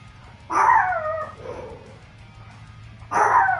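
Two loud, close dog barks about two and a half seconds apart, each a sharp burst, with a quieter yip in between over a low steady hum.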